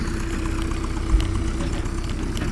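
A tractor engine idles close by while used with a chain and logs to move a shipping container, a steady low rumbling chug with one brief knock midway and no talking.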